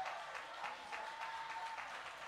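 A church congregation applauding at a prophetic revival service, a fairly quiet, steady wash of many hands clapping at a distance, with no voices.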